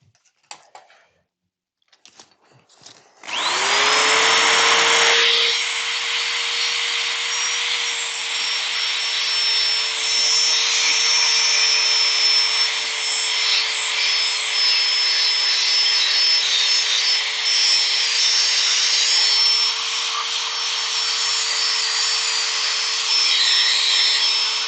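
Power sander with fresh 120-grit paper working Sri Lanka rosewood for an incense holder, starting after a few faint knocks and then running as a steady, loud, continuous whine and hiss that stays even to the end.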